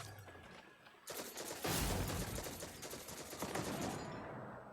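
Enemy gunfire in Destiny 2 crackles in a dense, sustained barrage, rapid automatic shots blending into a continuous roar that swells after a quieter opening.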